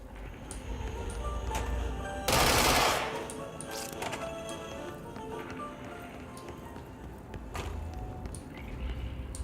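Gunfire in the video game Control: a loud burst of shots in quick succession partway through, with a few sharper single reports afterward over a steady humming backdrop.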